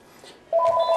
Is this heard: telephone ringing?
yes